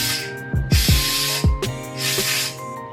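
Compressed air bursts out of a Miata's air suspension in loud hissing releases, several separate blasts with short pauses between them and low thumps as the car settles, close by and with no talking.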